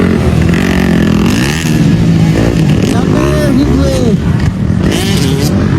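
An eleven-year-old girl rides a racing motorcycle in a motor race, its engine revving and roaring beneath loud, continuous commentary and crowd babble.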